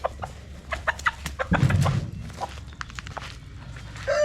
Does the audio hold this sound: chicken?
yes